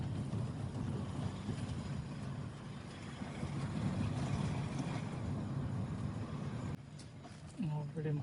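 Honda Civic rolling over a rough, broken road, its cabin filled with steady low rumble and rattling vibration noise that ends abruptly near the close, giving way to a quieter moment with a voice.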